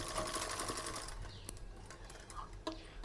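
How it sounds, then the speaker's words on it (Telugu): Sewing machine stitching a seam across cloth for a homemade newborn baby diaper, a steady close whirring needle chatter that runs continuously and eases near the end, with no voices. "టూ ఇంచ్ హైట్లో ఒక కుట్టు వేసుకొని"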